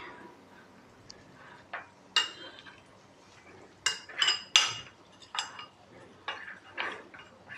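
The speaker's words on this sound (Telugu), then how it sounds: "అవి ఇందులో యాడ్ చేసుకొని లమ్స్ అన్నది ఉండన్నది లేకుండా కలిపేసుకోవాలి" A spoon stirs cornflour into milk in a bowl for mango pudding, making a scattered series of light clinks and scrapes against the bowl, irregular and close, with quiet gaps between bursts.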